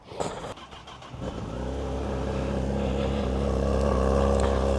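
A 2025 Honda Hornet CB1000 motorcycle with the stock exhaust cold-starts on a chilly day: a short whirring crank, then a rising, rumbling idle that grows steadily louder and settles into a deep, even drone close by.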